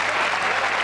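An audience applauds Josiane Balasko, introduced as a magician's partner on a French television show, with steady, dense clapping held at an even level through the whole short burst.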